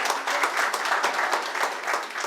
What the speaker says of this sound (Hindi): जोरदार ताली हो जाए सुमित कुमार जी के लिए।